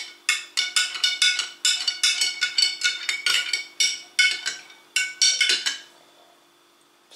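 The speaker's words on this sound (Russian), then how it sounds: "Теперь мы с вами перемешиваем вот тут все." Spoon clinking and scraping repeatedly against a pot while stirring a homemade yogurt and matsoni mixture, rapid rhythmic metallic knocks, close and alone before fading out.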